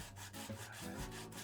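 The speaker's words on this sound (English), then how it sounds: "I'm sanding the pipe to remove any surface dirt and oxidation." Rhythmic abrasive rubbing, several quick back-and-forth strokes of sandpaper on copper pipe to remove oxidation before soldering, close and fairly quiet, with no talking.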